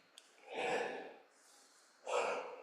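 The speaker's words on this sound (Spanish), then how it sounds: "Tanto bostezar me dieron más ganas de bostezar" Drawn-out human yawn, two breathy swelling exhalations separated by a soft airy pause, close and quiet, without words.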